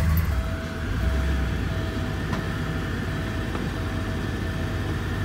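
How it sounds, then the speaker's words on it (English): A 1988 Porsche 928 S4 with 36k miles sits at a steady idle, its V8 giving a continuous low, even rumble with a faint whine above it and no revving or talking. "Go ahead and turn it on. Doesn't smoke on startup. Runs really nice."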